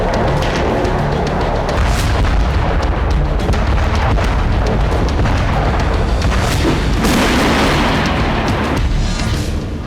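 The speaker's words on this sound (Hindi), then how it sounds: "यूक्रेन के हथियारों के गोदाम पर धमाके होने लगे" Repeated heavy explosions and deep booms roll on continuously at a Ukrainian weapons depot struck in a missile attack, loud and close, with crackling bursts layered over a constant low rumble.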